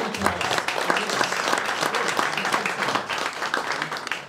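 Audience applause at a book presentation, dense steady clapping from a crowd lasting the whole stretch, close and fairly loud with no talk standing out.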